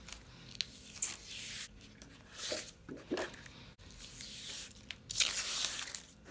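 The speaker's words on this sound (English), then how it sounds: "Step 1 is to remove the liner from both sides of the shield." Protective plastic liner is peeled off a face shield, quiet crinkling and tearing rips in short bursts with soft crackles between them, close to the microphone.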